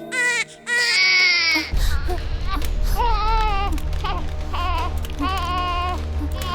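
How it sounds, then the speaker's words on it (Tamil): An infant cries in loud, repeated wailing bursts indoors in a Tamil drama scene, with adult voices talking over and between the cries. "இப்போ என்ன குழந்தை அழுவுறது நிறுத்தணும் அவ்வளவுதானே?"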